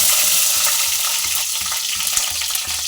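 Curry leaves dropped into hot oil give a loud, hissing sizzle, strongest at first then settling into steady frying, with a few soft stirring knocks underneath, heard up close.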